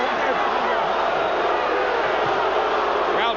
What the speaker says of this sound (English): Crowd booing Cortez's actions.